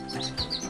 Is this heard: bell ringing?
no